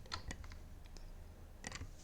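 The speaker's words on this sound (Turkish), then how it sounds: "Klavyeden 3 tuşuna basıyoruz." Computer keyboard keys are pressed during 3D modelling work in Blender, producing a few quiet, sharp clicks in small clusters, close and faint with no talk.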